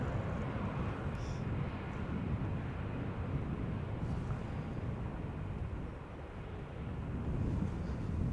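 Airbus A320neo airliner at Schiphol Airport, a steady broad engine roar heard from a distance, holding constant with a slight dip and swell near the end.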